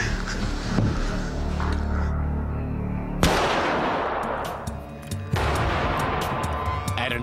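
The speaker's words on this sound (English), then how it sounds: "Matt's bullet blasts into the vest" A single loud gunshot at close range as a bullet strikes a police body armor vest with ballistic plate pocket, with a sharp crack and a second impact-like burst amid steady rumbling background noise.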